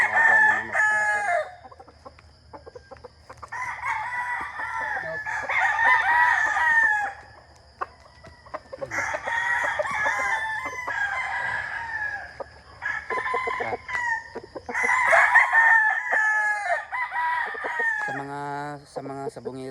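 A rooster crows repeatedly, loud and near, four long calls with pauses between them, followed by a few clucks and squawks at the end.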